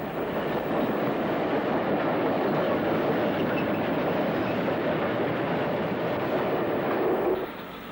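A class 82 electric locomotive, E3050, pulls a train into Stoke-on-Trent station. Its loud, steady rumble and rolling wheel noise carry throughout before easing off near the end, with no voices.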